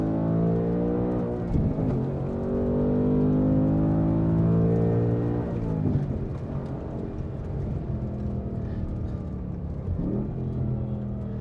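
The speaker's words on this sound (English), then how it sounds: "Third gear, clutch in. Second gear, blips it perfectly." A 2024 Ford Mustang Dark Horse with a manual gearbox lapping a race track, its engine droning loud and close, climbing in pitch, then dipping through gear changes with rev-matching blips before pulling hard again.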